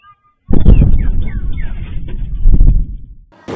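A sudden, heavy explosion booms in after a brief silence, followed by a long rumbling roar with scattered crackling debris that slowly fades.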